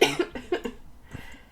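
A few short, close coughs in quick succession, then a fainter one after a brief pause.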